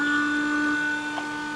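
Dremel sanding cylinder grinding into foam brackets on an Iron Man MK IV arc reactor build, a brief steady high whine heard up close and alone, with no speech.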